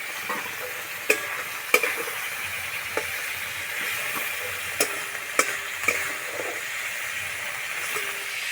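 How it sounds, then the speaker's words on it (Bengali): Fish frying lightly in hot oil gives a steady close sizzle and hiss, broken by a handful of sharp pops and crackles spread through the clip, with no voices. "মাছ বেশি ভাজবো না, হালকা করে একটু ভেজে নেব।"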